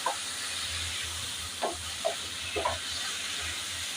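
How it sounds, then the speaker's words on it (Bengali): Dried taki fish cooked down with tomato and coriander leaves is stirred in a hot pan, giving a steady low sizzle with a few soft scraping strokes of the spatula and no voices. "আমি একটু নাড়বো কারণ ধনেপাতা অ্যাড করা হয়েছে।"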